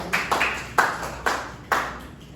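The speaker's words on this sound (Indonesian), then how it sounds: "Tepuk tangan untuk dia." About five or six separate claps ring out in a classroom at an uneven rhythm, each sharp and close with a short, bright echo, from only a few hands rather than a full group.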